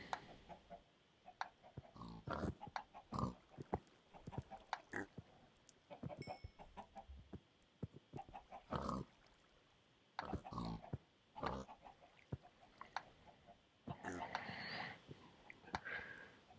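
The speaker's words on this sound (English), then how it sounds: "Oh, the pigs." Pigs in the Minecraft video game give short grunting oinks in scattered bursts, mixed with soft game effects while a person talks quietly throughout.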